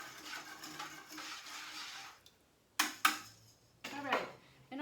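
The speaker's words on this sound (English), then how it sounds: "I'm going to stir my glaze." Pottery glaze stirred in a container, giving sharp scraping and knocking bursts against the side, with some low rustling and background noise between them.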